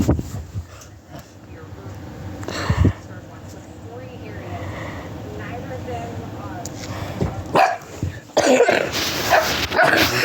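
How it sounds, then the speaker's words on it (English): A dog barks in short bursts indoors while a person nearby scolds it loudly, the voice often covering the barks, with a louder burst toward the end. "Don't bark at me!"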